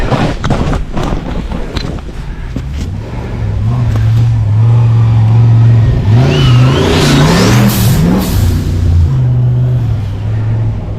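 Turbocharged off-road vehicle engine revving loudly and close by at a Baja desert race, with a rising and falling whine under a rough, steady roar.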